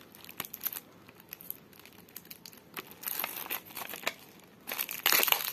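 Plastic wrap being peeled and crinkled off a CLT C90 cassette tape, a run of irregular close crackles and rustles that grow louder and denser toward the end.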